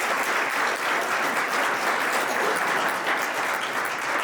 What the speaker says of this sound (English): So applause to our 3 new people.